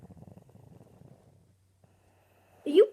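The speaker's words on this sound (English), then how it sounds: "Are you purring?" A cat purrs softly in a close, quiet room: a low, rapid, pulsing rumble for a second or so, fading away, followed after a pause by a brief louder vocal sound.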